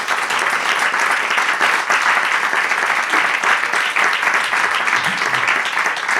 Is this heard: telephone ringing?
no